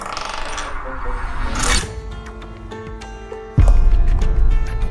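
A tossed coin lands on a hard surface and comes up tails, giving a short metallic clink and ringing bounce followed by a louder clatter as it settles.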